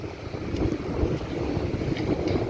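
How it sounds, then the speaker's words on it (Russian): Autumn sea wind off the Black Sea at Odessa buffets the microphone, a steady low rumbling roar with gusty fluctuations and no talking. "Осенний морской ветер."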